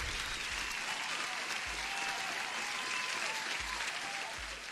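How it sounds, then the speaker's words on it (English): A canned applause sound effect plays on a livestream: dense, even clapping with light crowd noise, moderately loud and steady throughout, with no voices over it. "Gold Goblin, you definitely deserve an applause"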